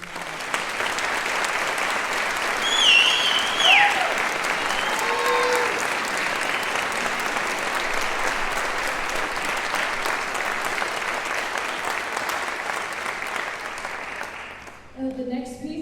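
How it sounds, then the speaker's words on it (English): An audience gives sustained, dense applause for a young choir at a choral concert, a steady roar of clapping filling the hall close and loud for about fifteen seconds before tapering off abruptly. "So I would like for you to give them a huge round of applause."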